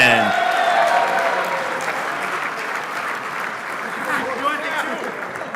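Sustained applause from a large crowd at an awards banquet for the 1/10-scale IFMAR Worlds 2023 RC car racing, held at Hobby Action RC Raceway. The clapping is strongest at first, then eases into a steady, slightly softer roar.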